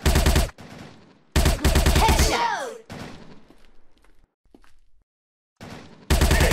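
Gunfire in a SWAT shooting game: several loud, harsh bursts of rapid shots separated by short pauses, a ricochet-like whine after one burst and fainter trailing reports, with no talking over them.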